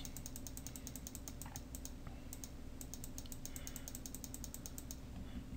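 Rapid bursts of computer keyboard keystrokes, crisp and close, tapping in quick runs with brief pauses over a low background hum.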